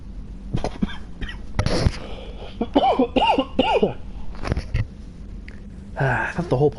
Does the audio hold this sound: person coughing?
yes